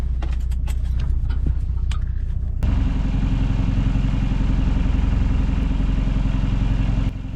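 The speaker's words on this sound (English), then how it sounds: "While I'm busy pulling up the anchor chain at the bow" Boat anchor chain hauled up by a windlass at the bow, a steady loud mechanical drone with rapid rattling clatter of chain links running continuously, after a brief stretch of softer knocking and clinking.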